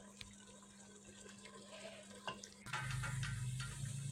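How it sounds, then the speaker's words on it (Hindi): Water splashes into a pan of simmering kachnar gosht (bauhinia buds with meat) as it cooks, a steady pour with bubbling that grows louder and fuller partway through, with no talk over it. "ऐसे ही बस थोड़ा थोड़ा इसमें पानी डालते जाना है"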